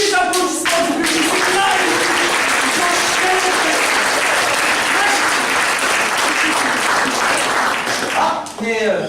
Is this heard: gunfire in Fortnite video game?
no